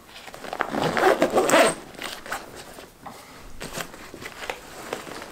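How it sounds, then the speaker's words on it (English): A backpack zipper is pulled closed in a loud raspy run, followed by several shorter, quieter zipping strokes and rustling of the pack, with no talking. "I can push this down and get it zipped up"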